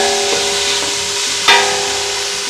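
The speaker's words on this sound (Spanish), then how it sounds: "Agregamos también el ajito, yo le pongo bastante ajo. Y vamos a sofreír por un minuto" Plenty of garlic with onion sizzling in a hot pan for a soup, giving a steady, close frying hiss with a brief louder crackle partway through and no voices.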